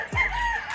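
A single rooster crow rings out close and loud on a commercial gamefowl farm, a short drawn-out call with a rising start and sustained tone.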